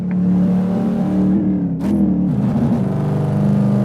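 A 1964 car engine in a racing video game revs loud and close, a steady droning roar that rises and dips in pitch with throttle changes and a quick shift partway through.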